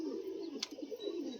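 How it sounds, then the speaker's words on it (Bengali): A Malbai pigeon gives a soft, steady low cooing murmur, close by, with a faint click partway through. "আরেকটা মালবাই পায়রা আছে সিঙ্গেল দেখো"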